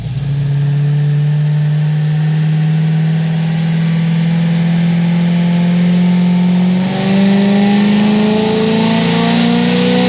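A cammed LS3 V8 in a C6 Corvette Grand Sport screams at full throttle on a dyno, a loud continuous roar whose pitch climbs steadily for the whole run with a choppy lumpy edge.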